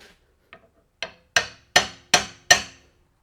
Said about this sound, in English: where's my hammer? I'm going to tap very lightly here.